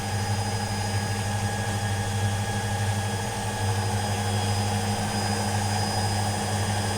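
A Kuppersberg WM 410 W washing machine on its spin cycle, its motor giving a steady, loud, continuous hum and whine with no change in rhythm throughout.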